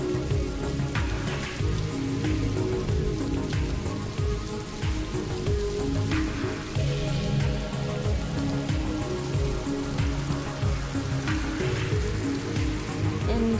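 Steady rain patters densely on a surface as a continuous background, with scattered drips and taps standing out throughout.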